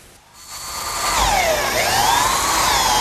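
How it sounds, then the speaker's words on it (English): A power drill spins up and bores a 3/8 inch hole through wood for a carriage bolt, its whine rising and dipping in pitch as the bit loads and frees, loud and close after a brief quiet start. "switch to a 3/8 inch diameter bit and drill a hole all the way through for the bolt"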